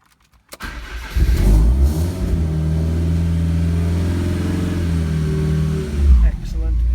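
Lancia Delta Evo1 engine fitted with a Super Sprint exhaust starts with a sharp catch, then settles into a steady, deep, loud idle close by, ending with a brief blip near the end.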